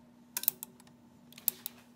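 A Teletype Model 28 KSR keyboard and selector cycle in two quick bursts of sharp mechanical clicks and clacks, close and crisp over a faint steady motor hum.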